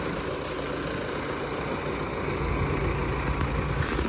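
A tractor idles aboard a river ferry boat, a steady low diesel rumble running unbroken and fairly loud throughout, with no voices over it.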